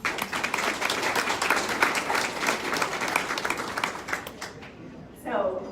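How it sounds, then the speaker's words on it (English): Audience at a New Year reception and awards event breaks into loud, sustained applause with dense clapping that tapers off near the end, followed by a voice beginning to speak. "So give yourselves a big round of applause."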